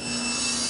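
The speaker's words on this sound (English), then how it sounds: "I'm going to make a trial cut for trimming the shoulders." A hand saw makes a short trial cut across a wooden tenon shoulder while building a small cabinet. The rasp is steady, close and fairly loud, with no voices.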